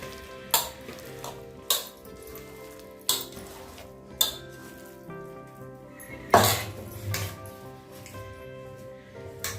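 Hot oil sizzles steadily for frying minapa vada, urad dal fritters, while sharp clinks of a utensil against the pan recur every second or so, with one louder scrape and splash near the middle.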